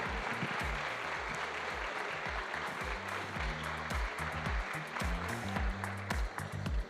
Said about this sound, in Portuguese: uma salva de palmas ao ministro Aires Brito